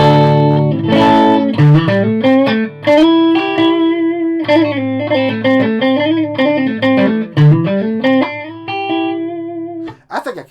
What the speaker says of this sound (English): So, none effects, straight into input 1. for the pure raw tone.